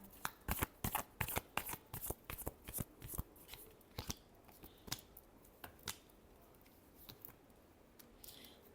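Tarot cards being shuffled close by, a quick run of crisp riffling snaps that slows into scattered softer flicks, faint overall.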